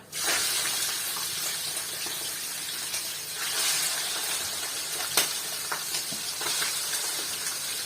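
Liver sizzles and crackles steadily in hot oil, a loud, continuous frying hiss with occasional sharper pops, no voices.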